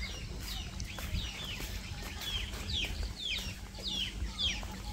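Village chickens cluck repeatedly in a rural Bangladeshi yard, a series of short rising calls at moderate distance over a low background hum, with no talking.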